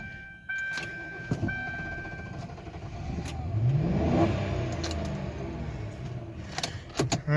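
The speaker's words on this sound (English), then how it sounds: "see if we can get a tractor to crank." A Yard Machines riding tractor engine cranks and catches, rising into a revving surge mid-clip before settling, with clicks and rattles around it, fairly close and without talk.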